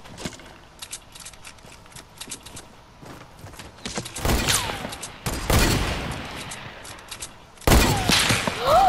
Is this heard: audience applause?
no